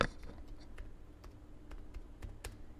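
Quick, light keystrokes patter on a computer keyboard, close and faint, in an irregular run of a dozen or so taps with no talking.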